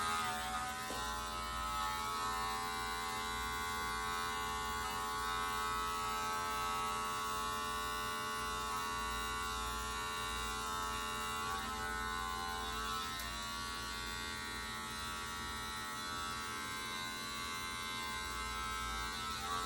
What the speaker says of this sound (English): I'm also using these GTX trimmers to line them up.